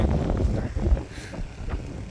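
Low, buffeting wind rumble batters the microphone in a field during corn sowing, loud and close throughout, with gusty fluctuations and no voices.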